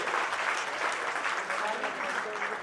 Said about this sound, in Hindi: एक बार जोरदार तालियां भी उनके हिस्से में आनी चाहिए।